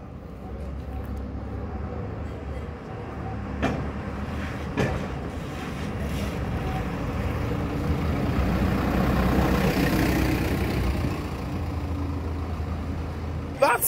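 A London W12 route bus rumbles steadily as it drives, its engine a continuous low drone with road noise and occasional knocks. The sound rises and falls slightly throughout, and no one speaks.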